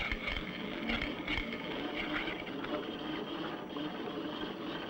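A steel ball rolls around a dish driven by an electromagnetic linear motor's travelling field, producing a continuous whirring, rattling mechanical drone that stays steady and close throughout.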